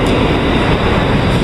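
A New York City subway train rumbles and roars along the track, loud and close, as a continuous dense noise with no talking over it.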